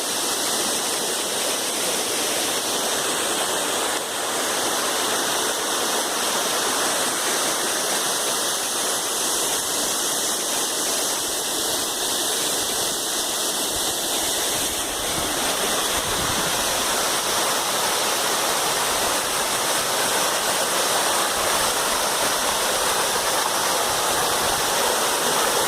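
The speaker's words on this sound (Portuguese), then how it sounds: "Lindo demais esse cachoeiro" The Cocais waterfall roars as a broad, continuous rush of falling water, loud and close, unchanging throughout with no voices.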